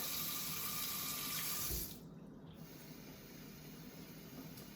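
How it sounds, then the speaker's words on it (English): Warm water runs from a kitchen tap into a liquid measuring cup for pretzel dough, a steady close hiss and splash that cuts off abruptly after about two seconds, leaving quiet room tone. "So I'm just gonna fill it up to the half a cup line"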